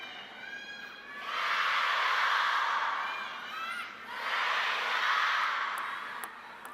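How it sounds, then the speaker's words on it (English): A coach at the ITTF Men's and Women's World Cup table tennis match in Macao cheers loudly in two long shouts over an arena's background murmur. "And a big cheer here from his coach."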